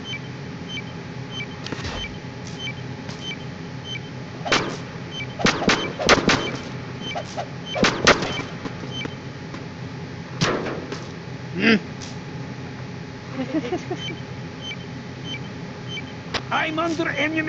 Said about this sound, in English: I'm under enemy fire!